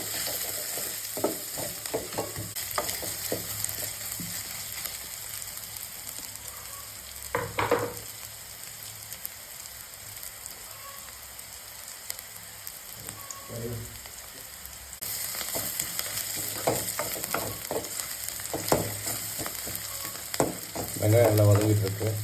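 Three onions sautéing in oil in a pan for a mutton gravy, a steady sizzle with intermittent scraping stir strokes, close and moderately loud, growing a little livelier in the later part.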